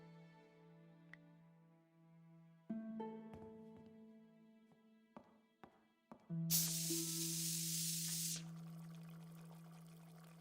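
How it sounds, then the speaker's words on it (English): In the Broken Sword 5 video game, cola in a capped bottle with mints bursts into a loud, spraying hiss for about two seconds, after soft musical tones and scattered clicks, then fades to a quieter fizz under the held notes. "I dropped the mints into the cola and quickly tightened the cap again"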